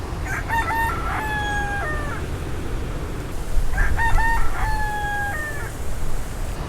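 Wild chickens in a beach clearing, with roosters crowing in two long, wavering calls a few seconds apart. Soft clucks come first, over a steady rushing background of surf or wind, and no one speaks.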